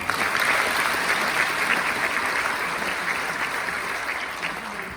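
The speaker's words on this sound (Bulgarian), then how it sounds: "Моля, аплодисменти." A film festival audience applauds at an opening ceremony, a dense, steady wash of many hands clapping that stays loud throughout and tapers only slightly toward the end, with no voices over it.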